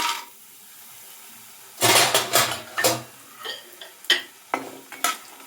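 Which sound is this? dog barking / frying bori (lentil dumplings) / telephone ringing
frying bori (lentil dumplings)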